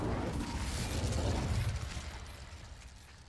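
The Incendio fire spell in Hogwarts Legacy, cast at vases, gives a loud whooshing, rumbling burst of flame. It roars steadily for a couple of seconds, then fades out, with no voice over it.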